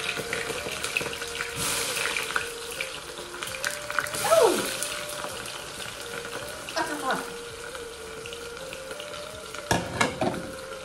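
Panch phoron spices crackle and sizzle in hot oil in a home kitchen, with bursts of frying noise, clinks of utensils and occasional water sounds, fairly close and moderately loud.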